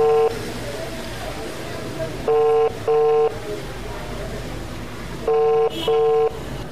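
A phone ringback tone with repeated paired electronic tone bursts, steady and fairly loud, rings unanswered over a noisy background.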